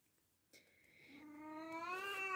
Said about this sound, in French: ça c'est lui qui miaule parce qu'il n'est pas content